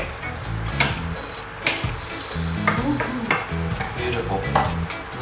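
Seafood and egg stir-fried in a hot pan for a Thai coconut chili-paste dish, with loud, continuous sizzling and repeated sharp scraping strokes of a utensil against the pan.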